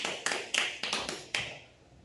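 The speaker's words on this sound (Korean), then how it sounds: "영광의 박수를 올립시다" A few separate claps ring out in a church service, about six sharp hand claps spaced roughly a quarter second apart, fairly faint, then fading into quiet room tone.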